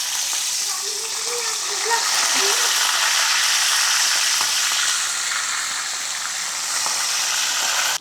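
Swordfish frying in a pan, a steady close hiss and crackle of hot oil that holds strong and unbroken throughout, with no talking over it.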